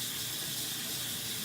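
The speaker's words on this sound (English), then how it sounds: "I like to use warm water, so that's why the water is running in the background." Warm water runs from a tap in a steady, continuous hissing stream, moderately quiet and unbroken, with no voices.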